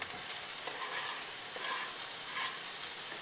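Zucchini, eggplant and garlic frying together in a pan give a steady, close sizzle with a few soft stirring swells, and no voices.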